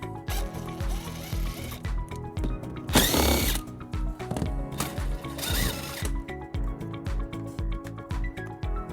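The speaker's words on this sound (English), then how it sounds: "We're going to remove those using a 10mm socket." Power tool, likely an impact driver or ratchet, removing 10mm bolts from the underbody panel of a 2016 Tesla Model S, with repeated bursts and two louder spells of higher-pitched whirring, steady and close with no talk.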